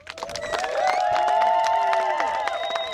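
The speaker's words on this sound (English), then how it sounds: "Let's clap for him" Wedding ceremony guests cheer and clap for the groom, with excited shouts and whoops over scattered clapping. The noise builds quickly and stays lively for about three seconds.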